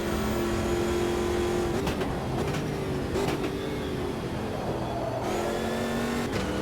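Race car engines in Automobilista 2 during a Copa Montana race: a loud, sustained, close engine whine that rises and falls through gear changes, with several cars audible at once and no talking.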